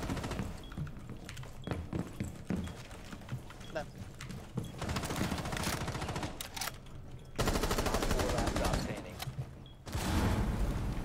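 Rapid automatic gunfire in the shooter game Rainbow Six Siege, dense bursts of shots over several seconds with short gaps, loud and continuous.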